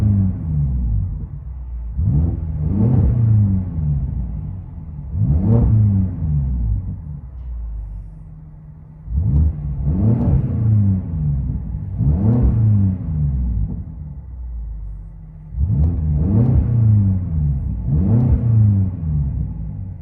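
A catless 570 hp BMW X5 M with a 4.4-litre V8, heard from inside the cabin: a deep exhaust rumble swells and fades in repeated revs, a muffled low drone alone with no talk.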